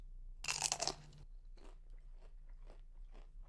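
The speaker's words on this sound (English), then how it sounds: "Listen to the crunch on this." One sharp, loud crunch as something crisp is bitten, followed by quieter chewing sounds in a quiet room.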